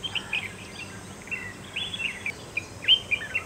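A small bird calls just after rain, repeated short high chirps and whistled notes in loose bursts against a quiet, faintly hissing outdoor background.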